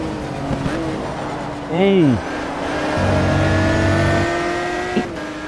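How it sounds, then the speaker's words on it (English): A racing car engine revs up and holds a steady high drone in the racing sim GTR 2, sounding synthetic, with a brief rising-and-falling whine and faint talk underneath. "the quality of the driving, the sounds"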